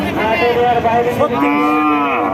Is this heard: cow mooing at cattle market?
yes